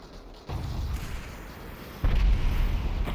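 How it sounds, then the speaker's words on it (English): Rocket explosions in the VR battle royale Population: One, two heavy low booms landing close, the second louder and sustained with rumbling debris, no talk over them. "Rocket coming in, doesn't quite connect."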